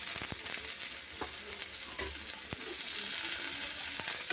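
Ginger and garlic fry in hot oil for a Bengali fish curry, a steady close sizzle punctuated by several sharp ladle scrapes and taps against the pan, with no one talking.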